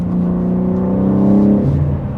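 An 8Y Audi RS3 accelerates hard while driving, engine note rising steadily and loud for about two seconds, then dipping as the pitch shifts near the end; no talk.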